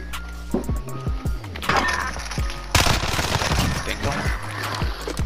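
Rapid video game gunfire in a tactical bomb-planting shooter crackles in dense bursts, with sharp repeated shots and a heavier volley partway through, all laid over a busy mix of game effects.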